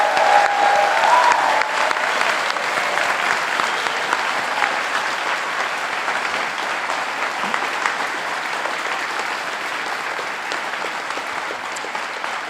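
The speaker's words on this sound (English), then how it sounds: "please join me once again in congratulating all of the graduates with your applause" Loud, sustained applause from the audience at a university convocation for social work graduates, a dense steady roar of clapping that fills the whole stretch and eases only slightly toward the end.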